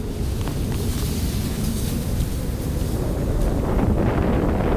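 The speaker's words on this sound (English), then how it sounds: "the wind is really kicking up here, biting" Strong, biting wind rushing through the Narrows, a loud continuous roar with heavy buffeting on the microphone and a faint wash of water beneath, with no talking.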